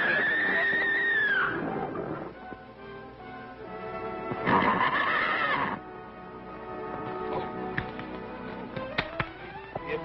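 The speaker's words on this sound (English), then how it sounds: "Much obliged for the horse, Sunset." A horse whinnies loudly, a shrill descending neigh, followed by a second burst and softer snorts and shuffling.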